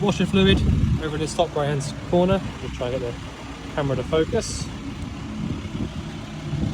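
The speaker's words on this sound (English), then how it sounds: "Sorry about the noise, we've got a van running over there." A van engine runs nearby, a steady low idling rumble sitting beneath someone talking continuously, behind him rather than up close.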